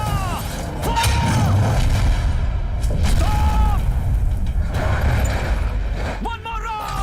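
Artillery gun firing in an action movie, booming blasts with a dense low rumble running throughout, mixed with soundtrack tones and effects; loud and sustained across the scene.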